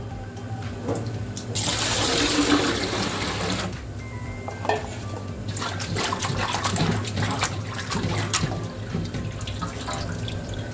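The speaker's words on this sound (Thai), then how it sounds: "หลังจากหมักครบ 5 นาทีแล้วค่ะเราก็นำตับมาล้างอีกรอบนึงนะคะ" Tap water runs and splashes while pork liver is rinsed in a kitchen, a strong gush at first, then softer trickling and clattering handling noises with the flow continuing.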